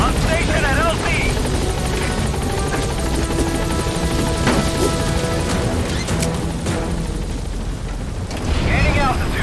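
The Pequod helicopter in the video game Metal Gear Solid 5: The Phantom Pain arrives at a landing zone, a loud continuous rotor roar and engine drone with radio voices talking over it and clanks and impacts mixed in.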